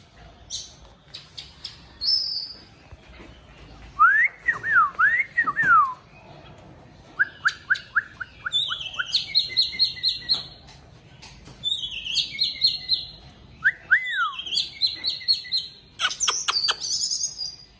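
An Oriental magpie-robin calls at home in bursts of bright, sharp chirps and trilled notes, answered by a person whistling rising and falling tones; the exchange repeats in short close phrases with pauses between.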